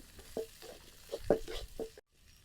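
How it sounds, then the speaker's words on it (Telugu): Green chillies and onions fry in a pan for street-style chicken noodles, with soft sizzling under several close scraping stirs, ending in a sudden brief silence. "ఫ్రై అవుతుంది."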